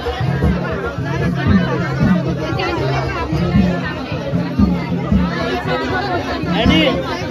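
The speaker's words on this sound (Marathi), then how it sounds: "जास्त गर्दी आहे." Dense crowd hubbub at a crowded temple gathering for a jagar night festival, a steady wash of many overlapping voices and chatter close around, with no single voice standing out.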